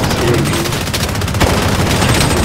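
Continuous close, loud rapid-fire shooting in the mobile shooter BloodStrike (Warzone Mobile Lite), a dense unbroken stream of shots with no voices.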